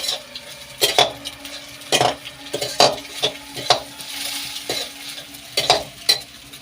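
Egg frying with onion and tomato in a pan for chowmein, a steady sizzle under repeated sharp spatula strikes and scrapes against the metal, close up and without talk.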